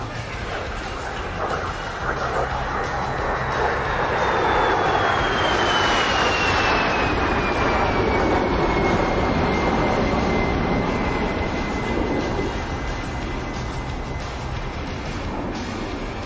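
Twin engines of an A-10 Warthog in the DCS flight simulator during a slow roll at a virtual air show, a steady jet roar with a high whine gliding downward as the aircraft passes, rising then easing off.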